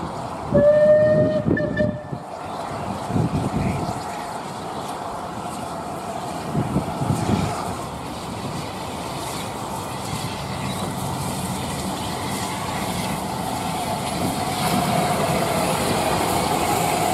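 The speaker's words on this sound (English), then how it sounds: "About an hour later, 92 Squadron returns with a train bound for Wansford." Steam locomotive 92 Squadron arrives with a train bound for Wansford: a brief whistle sounds at the start, then a steady rumble of carriages rolling in builds gradually.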